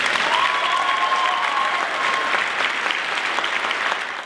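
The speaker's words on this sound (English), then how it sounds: "Let's give them a round of applause." Steady audience applause at a Porsche dealership event, a full crowd clapping evenly for several seconds before fading slightly.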